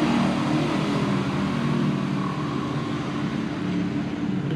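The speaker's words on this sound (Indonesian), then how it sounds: "Ribut ya suara motor." A noisy motorcycle engine drones steadily and loudly nearby, a dense continuous roar with no pauses and no voices over it.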